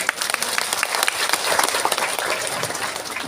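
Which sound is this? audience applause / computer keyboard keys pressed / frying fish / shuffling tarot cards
audience applause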